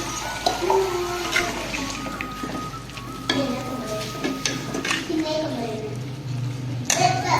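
Food sizzles and is stirred in a pan on a home kitchen stove in Pakistan as water is poured in, loud crackling frying with scraping stirs under intermittent talk and children's voices.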